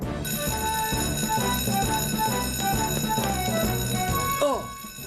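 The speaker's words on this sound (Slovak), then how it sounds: "Prečo musí byť poplach vždy vtedy, keď sa to nehodí?" A fire alarm bell rings out at a steady level through a busy animated Fireman Sam cartoon scene, mixed with music and other effects before cutting off near the end.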